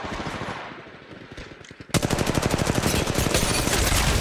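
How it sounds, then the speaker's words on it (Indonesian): Rapid automatic gunfire breaks out from behind the player during an Apex Legends Mobile team deathmatch, loud and sustained after a softer stretch of distant shooting, with no talking. "Di belakang kayaknya ada yang nembak nih."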